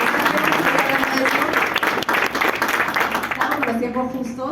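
An audience breaks into strong applause, a dense wash of clapping that is loud at first and thins out toward the end as a voice comes through.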